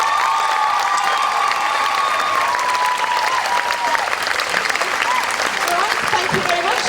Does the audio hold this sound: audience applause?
yes